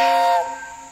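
A steamboat's steam whistle blows loud and close, a bright hissing tone that drops in strength after a moment and keeps sounding to the end of the short burst.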